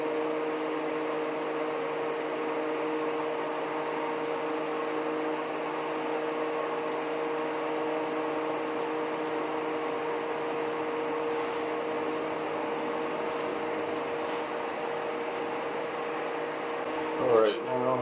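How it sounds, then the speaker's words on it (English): Radiator fan on a Mercedes-Benz CL500 W215 runs as a steady, continuous whir with a constant hum throughout, with a few brief clicks near the end. "That's why you can hear the fan in the background."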